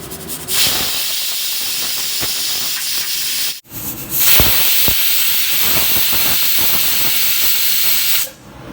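Loud, steady steam hissing from a pressure cooker whistle while cooking rice, with a brief break partway through before the hiss resumes at full strength and then cuts off.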